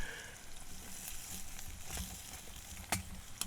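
Vegetables sizzle and crackle in a long-handled pan over an open fire in the bush, a steady close frying hiss with scattered pops and a few sharp stirring clicks.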